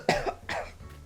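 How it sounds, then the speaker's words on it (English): A person's cough, two quick harsh bursts and then a second, weaker one, close and loud with no speech around it. "I gotta cough real quick."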